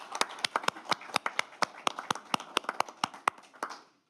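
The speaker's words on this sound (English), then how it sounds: "give them a round of applause for their hard work" A small audience applauding staff at a town board of mayor and aldermen meeting: sparse, distinct hand claps in an uneven rhythm, fairly close, tapering off after about four seconds.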